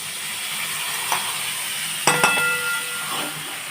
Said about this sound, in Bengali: এই যে মেথি আর এটা পোস্তটা যে পেস্ট করা, এটা ঢেলে দিচ্ছি